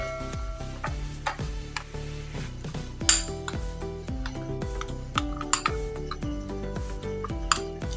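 Spoon clinking and scraping against a metal or glass bowl while food colouring is stirred into a spice marinade for chargha chicken, a run of bright ringing taps in an irregular rhythm, close and fairly quiet.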